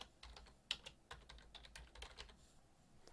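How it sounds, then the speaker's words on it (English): Fingers type on a computer keyboard while entering a heading in a document, a quiet, uneven run of soft key clicks with one sharper tap near the start and brief pauses between bursts, no voice. "and then start typing"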